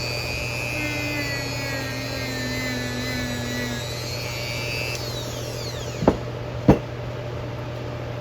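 A power tool buffs rust off an old hand tool at about half speed and light pressure, a steady whirring hum with a high whine that winds down near the end, followed by two sharp clacks.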